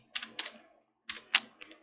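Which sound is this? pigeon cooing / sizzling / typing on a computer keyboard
typing on a computer keyboard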